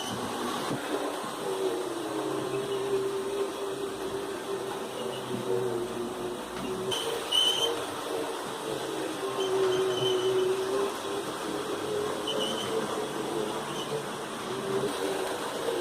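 A Hornby Class 20 model locomotive runs on a layout with a steady whirring motor hum. Its wheels rattle and click on the track in a continuous, even drone at close range.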